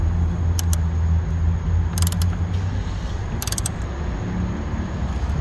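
A ratchet clicks in quick bursts while tightening a fastener on a 2017 Hyundai Santa Fe headlight, short metallic pawl rattles heard up close over a low steady hum.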